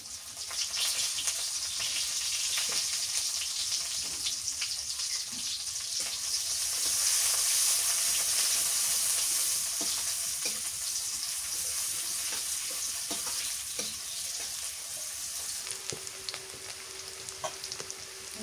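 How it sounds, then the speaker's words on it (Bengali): Chopped onions sizzle steadily in hot oil in a pan, a continuous close frying hiss with faint scattered clicks and stirring throughout. "আর একটু তেল দিয়ে দিই। পেঁয়াজ কুচি দিয়ে দিই,"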